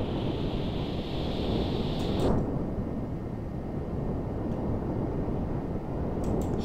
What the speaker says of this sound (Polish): Ale wiatr jest masakryczny.